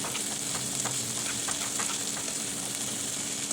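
Chopped peppers sizzle steadily in hot ghee, with soft scraping and clinks from stirring breaking through the constant close frying hiss.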